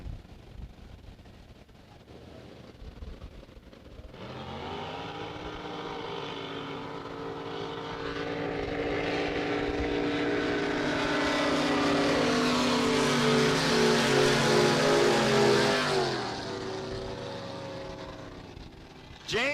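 Drag racing boat engines roar at the Paris, Texas finals, starting as a low rumble and swelling into a loud, sustained howl for several seconds before cutting off abruptly near the end.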